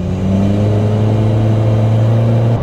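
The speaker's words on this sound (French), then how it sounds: "on entend vraiment le moteur s'exprimer" A Mitsubishi Pajero Mini's small engine of about 60 horsepower, fitted with a stainless steel exhaust, drones steadily and loudly up close under load, with a strong low hum and no talking.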